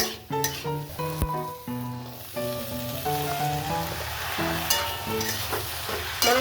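Boiled peas tipped into a spice masala for ghugni crackle and sizzle in the pan, a steady frying hiss running under melodic background music.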